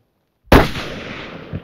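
A single loud rifle shot rings out while hunting Cape bushbuck in South Africa. It has a sharp crack that breaks a silent moment, then a rolling tail that fades over about a second.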